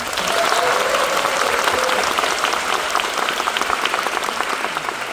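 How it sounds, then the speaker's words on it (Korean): An audience claps to vote for a contestant at an essay gathering, a dense, steady round of applause that stays fairly loud and tapers slightly toward the end. "먼저 김민철 씨가 잘했다고 생각하시는 분 박수 보내주세요."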